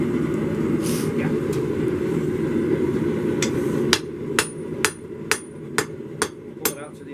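Hot metal is hammered on an anvil. Sharp, ringing strikes arrive in a steady rhythm of about seven blows, close and loud over low forge roar and background murmur, with a few scattered taps before them.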